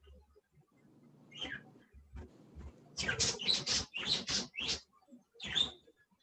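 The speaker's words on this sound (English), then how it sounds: "I heard your birds chirping" Small pet birds chirp in quick bright bursts, a cluster of sharp tweets in the middle and a couple more near the end, fairly close with little else around.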